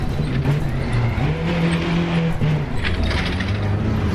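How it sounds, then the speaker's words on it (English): A GT4 race car mod in Assetto Corsa Competizione at Oulton Park drones loudly as its engine pitch climbs and drops through gear changes, with rattly mechanical noise from inside the car underneath. "You can hear stuff rattling around in it."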